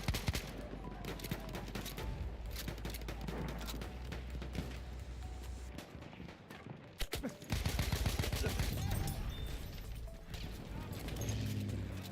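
Enemy machine gun fire in the video game Battlefield 1, dense rapid bursts crackling loudly through the whole span amid other battlefield gunshots and crashes, with a sharper, heavier barrage in the later part.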